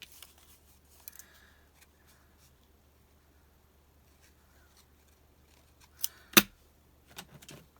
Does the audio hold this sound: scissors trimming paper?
yes